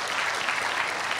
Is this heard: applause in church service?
yes